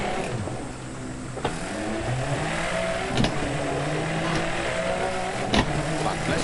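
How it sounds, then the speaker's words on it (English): Rally car engine in DiRT Rally 2.0 droning and revving continuously throughout, loud and close, with sharp knocks and clunks from the rough stage cutting in now and then. "This car is making so many noises telling me no, please don't."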